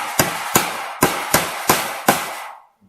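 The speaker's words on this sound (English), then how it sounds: "Just use a pair of pliers to hold the staples and hammer them on" Six evenly spaced, sharp hammer blows drive staples onto a DIY squash trellis, with the staples held in welding pliers. The strikes are loud and close, each with a short ringing decay, and no one speaks.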